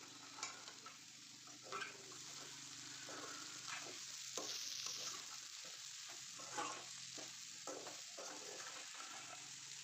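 Okra curry, slightly catching on the bottom of the pan, is stirred with soft scraping strokes at an irregular pace over a faint, continuous sizzle, with no voices.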